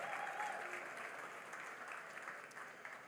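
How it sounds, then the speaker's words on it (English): Steady applause from a crowd at a charity harvest ball, many hands clapping at once, evenly sustained for a few seconds and somewhat distant. "Let's give Michelle a round of applause."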